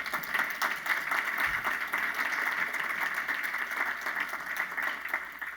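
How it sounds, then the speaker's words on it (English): Audience applause at a conference closing ceremony, a sustained wash of many hands clapping at moderate loudness throughout, with no speech over it. "let's give a big round of applause to all of the presenters this weekend"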